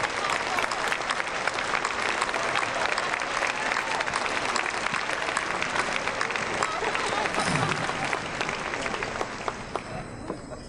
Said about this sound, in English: if you'd please rise, so we could just give you a round of applause and welcome you